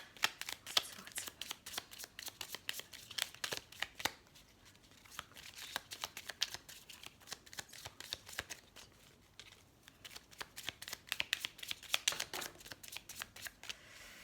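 Tarot-style cards are shuffled by hand in quiet, repeated riffling bursts, with short lulls near the start and in the middle and no talking.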